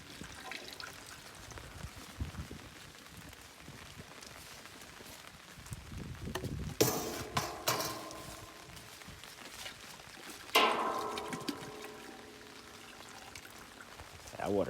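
Water sloshes and swirls as it is stirred in a 55-gallon drum holding dyed car carpet, with splashing and trickling, a couple of louder knocks, and some talking underneath.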